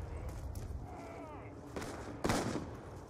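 Video game gunfire from Olympia guns: a few sharp shots, the loudest bursting near the end, over muffled game ambience and background noise.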